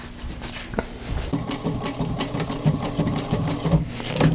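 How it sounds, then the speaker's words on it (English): A sewing machine stitches a zipper facing onto jeans in a close, continuous whirring run with rapid needle chatter and a few uneven bursts and clicks. "I'm gonna stitch this onto this basically like that"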